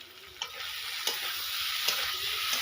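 Spice paste of garlic paste and Kashmiri chilli powder frying in a pan, giving a steady close sizzle with a few light scraping stirs and no voices.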